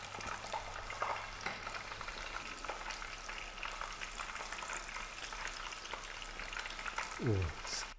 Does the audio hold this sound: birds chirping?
no